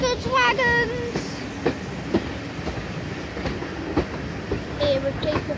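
A train arriving at Minehead station rolls along with rhythmic clickety-clack of wheels on rails, brief squeals, and a steady rumble as it slows.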